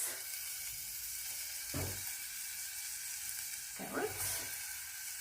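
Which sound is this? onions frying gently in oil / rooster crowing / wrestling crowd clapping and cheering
onions frying gently in oil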